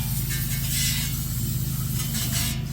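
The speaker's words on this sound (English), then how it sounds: "now we're gonna go ahead and spray this and clean it with some brake cleaner." Brake cleaner sprayed onto a rusty, dust-covered brake caliper, a steady close hiss that runs unbroken.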